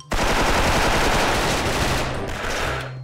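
M4A1 rifle fire in the online shooter Special Force, a loud sustained automatic burst of rapid shots lasting about three seconds, close and alone with no talk.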